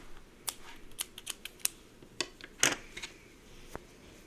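Several sharp snips of scissors cutting crochet yarn, close and fairly quiet, coming in an uneven series with one slightly louder cluster of cuts.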